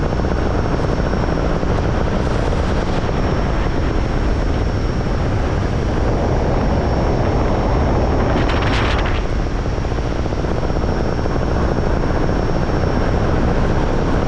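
A steady, loud paramotor engine drone idling in flight, with rushing wind, continuous throughout, a small propeller motor running at low power in the open air.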